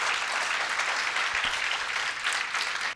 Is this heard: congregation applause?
yes